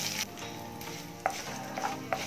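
Chopped curry leaves frying in a hot tempering for oggarane kadubu, giving a steady close sizzle with a few brief spatula scrapes and crackles.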